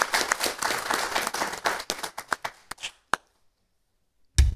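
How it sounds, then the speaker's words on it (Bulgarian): Applause at an award ceremony, a cluster of claps that quickly thins into scattered individual claps, then stops, leaving near silence before one final loud thump. "Аплодисментите са за вас."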